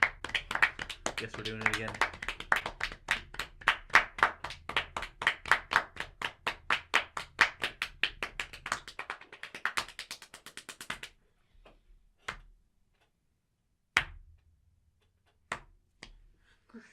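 Loud, rapid hand clapping repeats steadily for about nine seconds, then dies down to a few scattered single claps, with a voice speaking briefly in between.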